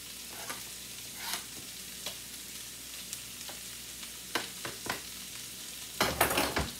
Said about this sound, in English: Put the garlic in.